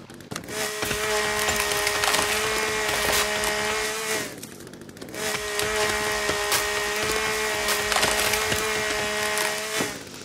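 Repeated axe chops into trees for wood in the survival game The Forest, two long bursts of rapid, splintering wooden strikes with a steady tonal hum underneath, separated by a short pause.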